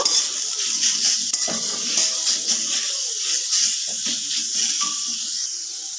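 Grated potato and carrot sizzle steadily in hot oil in a pan while a spoon stirs and scrapes through them, close and continuous, with no voices.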